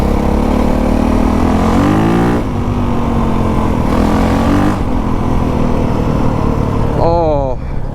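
A 450 dirtbike engine drones loudly and steadily up close, with revs rising and falling and a chain whirring under the engine, followed by a sharp rev change at the end.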